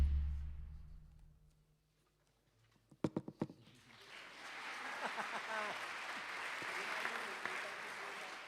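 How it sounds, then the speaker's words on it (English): Audience applause at an international opening session, rising after a few sharp claps into a sustained, moderately loud wash of clapping from a crowd that continues steadily to the end. "Let's give a warm round of applause to our friends from Caledon, France"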